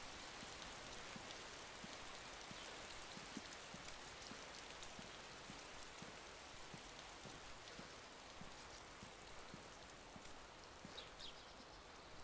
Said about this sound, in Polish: Jak mnie denerwuje ten deszcz, nie?